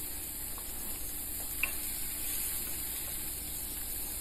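Minced pork stir-fries in a pan, a soft, even sizzle with occasional spatula scrapes and a single light clink, fairly faint and steady over a constant background hum.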